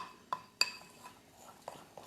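Gluten-free bread ingredients are mixed by hand in a bowl, with egg, water, olive oil and dry ingredients stirred together without a mixer. A utensil gives a few sharp clinks against the bowl between quieter scraping, close and moderately loud.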